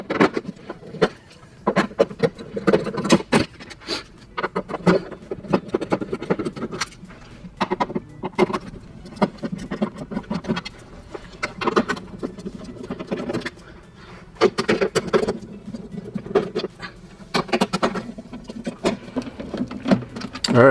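Screws are backed out of a dryer door with a tool, giving dense irregular bursts of close rattling and ticking clicks, broken by brief pauses and handling noise.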